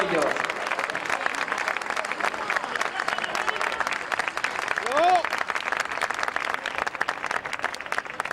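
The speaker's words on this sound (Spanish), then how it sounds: "Un fuertísimo aplauso para todos ellos." An audience applauds the musicians at an Aragonese folk music and dance festival, dense steady clapping from a large crowd, with a few faint voices and a brief tonal sound partway through.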